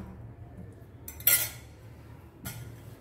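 A metal dal masher crushes boiled, peeled potatoes in a vessel, making two distinct close knocks and clinks about a second apart, with quiet pauses around them.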